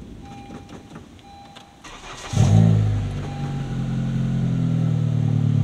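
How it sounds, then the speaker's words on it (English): A turbocharged Honda Civic Si engine cranks and catches with a loud burst, then settles into a steady, rumbling idle that continues close to the microphone. "Let me start the car."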